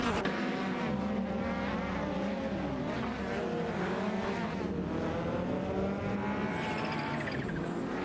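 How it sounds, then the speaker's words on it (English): Several race cars in an AI racing video game roar and whine together, engine notes rising and falling in continuous pursuit with steady loud intensity throughout, with no voices. "A thrilling battle for position is unfolding as they chase down the leading cars."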